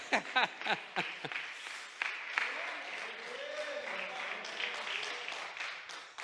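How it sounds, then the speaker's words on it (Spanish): A church congregation breaks into applause during a sermon, a few sharp claps growing into steady, dense clapping that continues for several seconds, moderately loud and filling the room. "Dele palmas si puede."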